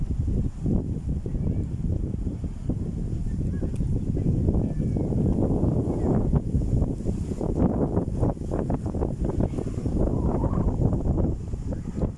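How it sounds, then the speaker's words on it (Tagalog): Strong seaside wind at Manila Bay roars and buffets the microphone in a loud, continuous low rumble with gusty surges, mixed with rustling leaves and faint background sounds. "Napakalakas ng hangin dito guys. Naririnig nyo yung mga ingay ng hangin"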